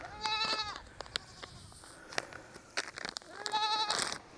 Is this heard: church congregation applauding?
no